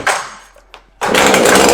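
A Stihl FS 560 brushcutter with a 56–57 cc engine revs loudly and close by, drops back briefly, then roars again at full throttle with a harsh, steady buzz.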